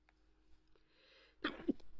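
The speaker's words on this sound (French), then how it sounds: "Attendez, j'ai envie d'éternuer." A single sharp sneeze bursts out near the end, close and loud, with a quick second voiced puff right after, following a quiet indoor stretch.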